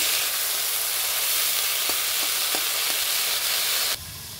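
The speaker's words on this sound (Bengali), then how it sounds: "তো এই ডুমুরটা আমি ঢেকে ঢেকে ভেজে ভেজে নেব।" Figs (dumur) fry in a pan with a loud, dense, continuous sizzling hiss and a few soft crackles. Partway through, the sizzle drops suddenly to a quieter level.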